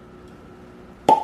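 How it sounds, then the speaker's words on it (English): A cork pops from a bottle of Parker's Heritage 13-year-old double-barreled Kentucky straight bourbon, a single sharp close plop after a second of quiet room hush. "we're about to do a fresh cork pop bourbon quest"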